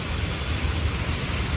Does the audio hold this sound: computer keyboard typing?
no